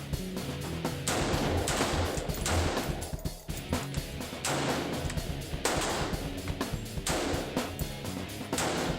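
A brand-new SIG 516 pistol with an arm support fires repeated loud, sharp shots in several bursts, each crack followed by ringing echo, with brief lulls between volleys.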